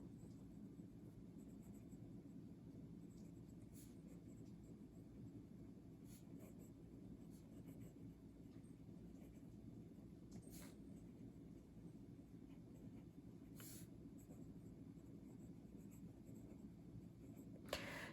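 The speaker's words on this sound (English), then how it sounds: "let me do a writing sample" A Montegrappa Wonder Woman fountain pen writes on paper, producing a faint, steady scratching under a low background hum, with a few brief light ticks scattered through the long writing sample.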